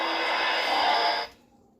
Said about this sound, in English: that is the sound of 432 hertz